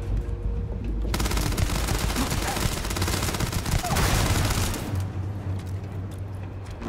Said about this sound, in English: who's shooting at who now?